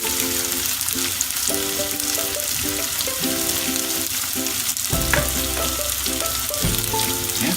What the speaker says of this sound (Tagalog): kailangan natin siyang i-fry kasama ng sibuyas at ng bawang